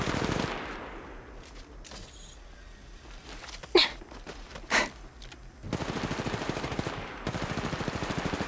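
Video game gunfire in Apex Legends, rapid automatic bursts at the start and again in the final seconds, with a couple of sharp isolated cracks and quieter game effects in between, no talking.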